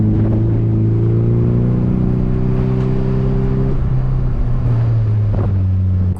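A Nissan Silvia at speed in time trials at Mission Raceway, its engine droning loud and steady from inside the car with wind roar, the pitch holding then dropping as the driver shifts.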